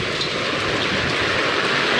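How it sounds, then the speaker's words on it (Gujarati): Heavy monsoon rain pours down in Junagadh during the season's first downpour, a loud, dense and unbroken hiss of falling water close by. "કેવો આવે છે વરસાદ તમને બતાવું"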